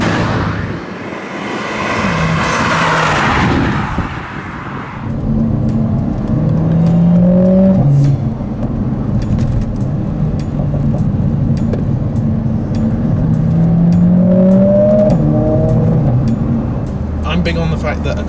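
A Mercedes A45S AMG hot hatch drives with its engine droning and rising through revs, a steady mechanical hum beneath the cabin noise, while someone talks over the opening seconds.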